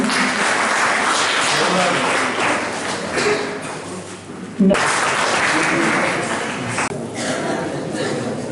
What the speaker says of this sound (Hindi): कृपया ताली में कंजूसी ना करें।